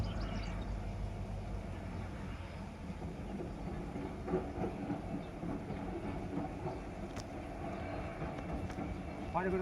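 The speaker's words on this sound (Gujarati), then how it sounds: "જો મીટર એન્જિન જાય છે ખાલી" A meter-gauge locomotive running light with no carriages rolls past near Bhayavadar railway station, a steady low rumble with faint clatter continuing throughout, with people talking over it.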